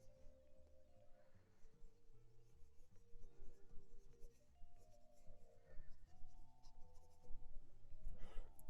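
Quick pencil strokes scratch and rub across paper during a loose figure-drawing sketch, soft and close, in irregular bursts that grow busier toward the end, alone without speech.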